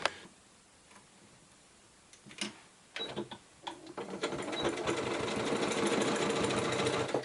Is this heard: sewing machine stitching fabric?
yes